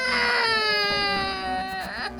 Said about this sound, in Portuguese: é possível ouvir os gritos e o choro do bebê